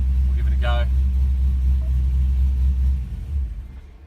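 A car engine idles with a low, steady rumble, then stalls after its fault codes are cleared: the drone cuts out near the end, leaving a faint, uneven settling. A brief chime sounds early on.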